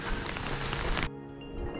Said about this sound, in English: Well, the rain is subsiding